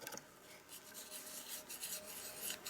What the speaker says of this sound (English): I'm going to use the diamond hone.